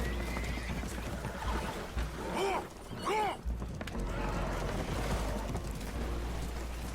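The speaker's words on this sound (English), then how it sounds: "Horses are spooked, and we're taking on water." Spooked horses whinny twice in quick succession on a damaged boat taking on water in the Red Dead Redemption 2 video game, heard over a constant rush of water and engine rumble.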